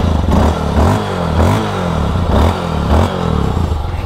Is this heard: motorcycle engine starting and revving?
yes